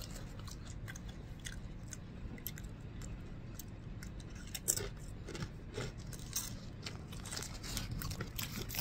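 Doritos chips being chewed up close, a steady run of quiet crunches and bites with a few louder cracks, no talking.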